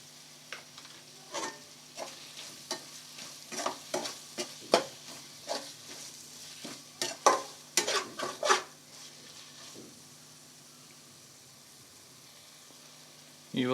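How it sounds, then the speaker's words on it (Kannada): Curry leaves hitting a hot pan of mushroom pepper masala sizzle as a spoon stirs and scrapes, giving a run of sharp close clatters and hisses that thin out into quieter frying before a final clink. "ಈಗ ಕರಿಬೇವು ಹಾಕೋತಾ ಇದ್ದೀನಿ."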